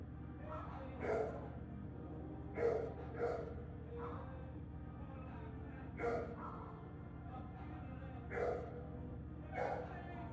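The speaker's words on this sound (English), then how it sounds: "You see this dog is still fucking barking?" A dog barks repeatedly in the distance, about seven spaced single barks over a constant low background hum.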